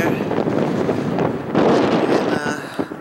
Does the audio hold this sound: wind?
yes